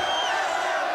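A women's wrestling arena crowd roars and shouts in a brief, dense burst of many voices, loud and continuous.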